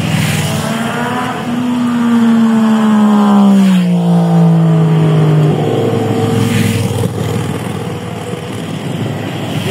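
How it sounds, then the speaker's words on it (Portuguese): Beside a rural highway, a single loud vehicle approaches and passes close by with a rising then falling engine note, followed by the more distant hum of further traffic, with no voices. "Bastante moto"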